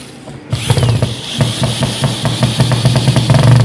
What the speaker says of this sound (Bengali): আসলে আমি এখন স্ক্রুটা মারি দেখাই।